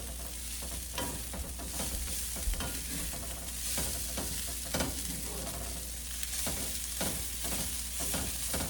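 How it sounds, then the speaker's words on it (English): Ground beef being stirred in a frying pan for a low carb Mexican casserole, a steady sizzle with repeated scraping stirs and light clinks throughout, close and with no talk. "Give it a good stir."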